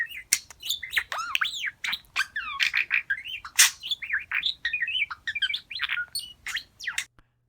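A small songbird chirps and warbles in rapid, varied bursts of whistled notes, close and clear against silence, stopping abruptly near the end.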